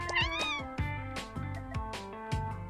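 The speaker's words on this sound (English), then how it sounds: "We got the tabby cat." A tabby cat in the video game Roulette Hero gives a run of clear, close meows, about five or six bright calls in a steady rhythm over two and a half seconds.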